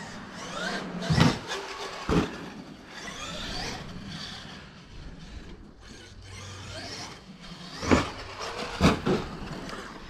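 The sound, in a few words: Traxxas X-Maxx RC car driving the circuit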